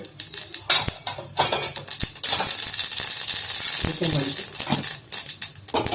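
Crackling sizzle of mustard seeds spattering in hot oil in a pressure cooker, with clinks of metal and a utensil close by.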